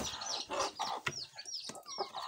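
A hen clucks in short repeated bursts among chicks, with thin peeping calls woven between her clucks, close and fairly quiet.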